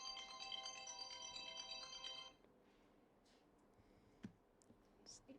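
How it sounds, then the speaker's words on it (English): A phone ringtone plays a bright repeating melodic tune for about two seconds, then stops abruptly, leaving a quiet room with a few faint clicks and rustles. "Terrible ringtone, whoever's that is."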